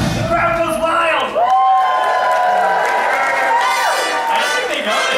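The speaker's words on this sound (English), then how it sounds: "The crowd goes wild." Crowd cheering and whooping at a Disney World Christmas stage show, loud and continuous, with shouts rising over the applause throughout.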